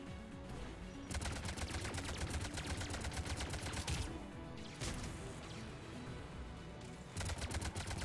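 Gunfire in the video game Mass Effect 3: rapid bursts of sharp, automatic shots in close, loud sustained volleys broken by short pauses, no voices over it.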